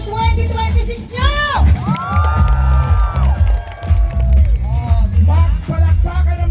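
A large outdoor crowd at the Quezon City New Year countdown claps and cheers loudly, with shrieks and whoops rising and falling while amplified voices shout over the din.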